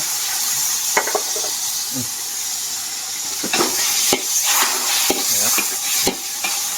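Liquid hits a hot wok of pork stir-fry for Thai basil krapao over a wood fire, setting off a steady loud sizzle and hiss, with sharp clinks of the spatula scraping and stirring throughout.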